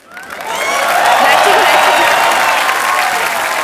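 Studio audience on a Hindi comedy talk show breaks into sustained, loud applause welcoming a female guest, building quickly and holding steady with a dense wash of clapping and some crowd noise.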